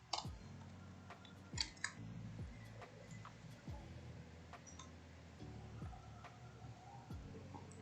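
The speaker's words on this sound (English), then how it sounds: "can't see what I'm typing" Keys on a computer keyboard clatter in quick, uneven bursts during a Hypixel game session, soft and close over a steady background of game sounds with repeated falling swooshes.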